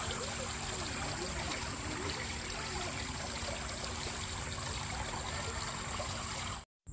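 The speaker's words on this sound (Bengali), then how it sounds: "আর ওভারফ্লো হয়ে জল এখানে নিচে আসছে, তারই আওয়াজ।" Overflowing water spills down beside a cottage at a riverside hotel in Taki, a steady, continuous rushing wash that stays close and even throughout, with no voices, before cutting out briefly at the very end.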